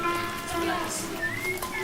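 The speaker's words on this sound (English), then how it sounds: "Unfortunately, it was raining quite a bit." Steady rain pattering on a surface in a city park in Yunnan, China, with faint voices and tonal sounds mixed into the background.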